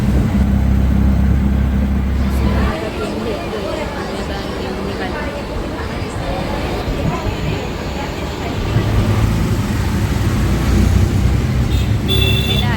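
A ride in an auto rickshaw through station-area traffic, with a steady close rumble of engine and road noise running throughout and people talking over it.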